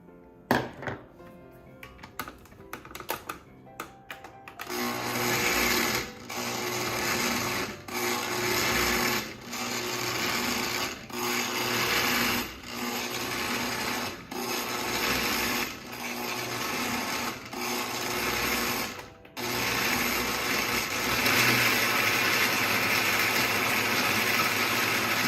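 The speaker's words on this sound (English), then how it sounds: "I think I'm going to use a little bit of this soaking water to get this to move in the blender." A kitchen blender grinds chunky red and yellow curry paste ingredients loosened with soaking water, a loud harsh whir that surges and stalls in repeated bursts, then runs smoothly and continuously toward the end.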